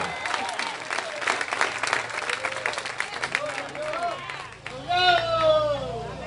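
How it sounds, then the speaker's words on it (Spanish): A church congregation bursts into applause with scattered clapping and crowd noise, fading as a preacher's voice rises loudly over it. "denle un fuerte aplauso al Señor"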